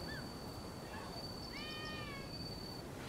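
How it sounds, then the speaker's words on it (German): A cat in the video game Rise of the Ronin lets out a couple of short meows, one early and a longer drawn-out one midway, over steady game ambience with a faint high tone. "Das ist eine Katze."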